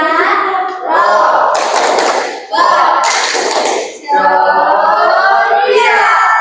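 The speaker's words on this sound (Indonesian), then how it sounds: "Tepuk tangan untuk kelompok robot ceria" A class of school students claps for a team called Robot Ceria, a loud, close, rhythmic clapping with chanted voices over it, broken by a couple of brief pauses.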